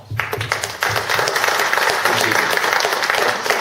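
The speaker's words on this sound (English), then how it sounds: "Let's give them a round of applause." An audience at a club's general meeting breaks into a round of applause, a sustained burst of many hands clapping that swells after a brief pause, with a voice speaking over the start.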